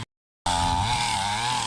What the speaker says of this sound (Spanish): Ya pues ya trajimos ahí en motosierra.